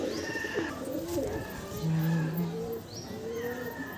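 Roller pigeons give low cooing calls close by, with a few higher chirps against a busy background, and a voice speaks briefly over them.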